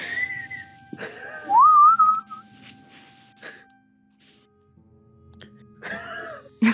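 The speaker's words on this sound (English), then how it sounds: "Whistle noise." A person whistles a short rising tune, clear and close, amid quiet tabletop role-playing game chatter, with a few other brief vocal noises around it.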